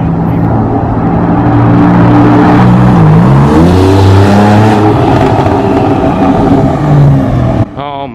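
Porsche 911 991 C2S with a Sharkwerks race exhaust revving up loud and close, engine pitch rising and falling through a deep rumble before cutting off abruptly near the end.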